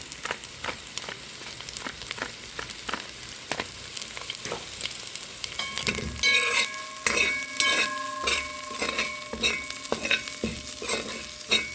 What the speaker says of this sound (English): I'll allow this to fry up or parch a bit before I add some green seasoning.